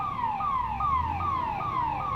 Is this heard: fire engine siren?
yes